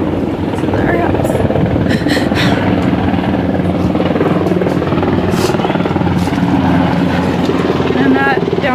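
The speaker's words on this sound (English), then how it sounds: "Helicopters." A helicopter flies overhead over a storm-hit neighbourhood, a steady rumbling rotor drone under continuous nearby talk, with wind noise throughout.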